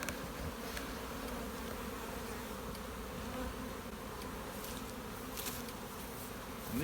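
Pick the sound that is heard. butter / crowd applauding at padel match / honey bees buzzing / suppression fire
honey bees buzzing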